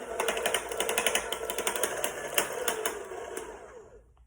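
An electric hand mixer beating mashed sweet potato with milk for a Southern-style sweet potato pie filling, a steady buzzing motor whir with rattling beaters, close and continuous before winding down at the end, no talking.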